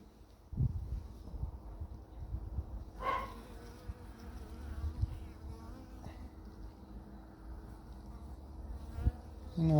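Honeybees buzz and whine low around an open hive during the first spring inspection, a faint steady drone with occasional louder passes, plus soft handling knocks and rustles.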